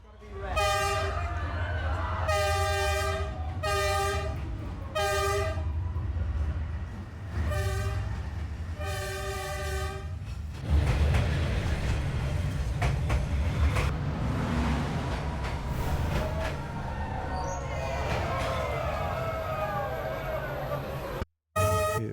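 A train on Hanoi's North-South Railway sounds its horn in several long blasts, then rumbles past close by along a narrow street lined with cafes, with rattling wheels and squealing metal, loud throughout.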